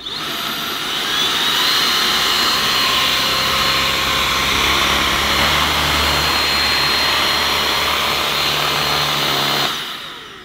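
A Bosch Unlimited Serie 6 Pro Animal cordless vacuum running on turbo, a loud, steady motor whine and rushing airflow with the brush roll spinning, holding constant for several seconds before cutting off.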